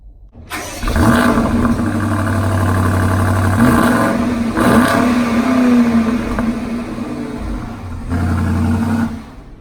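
A 2020 BMW X7 M50i's 8-cylinder engine cranks to life and settles into a deep idle, then revs rise and fall in a few loud bursts close by, with no talking.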